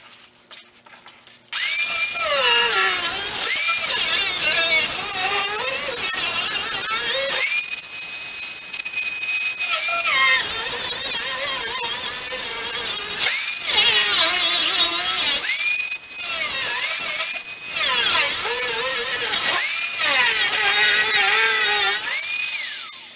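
A power tool cuts bolts off a 1964 VW Beetle in repeated loud, whining bursts of several seconds each, separated by brief pauses.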